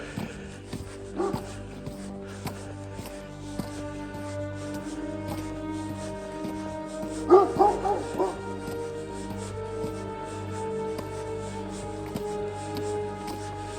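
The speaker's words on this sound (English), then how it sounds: "Uh-oh. Dog." Dog in the woods giving a few sharp yips and barks, with a louder cluster midway, over a steady low hum.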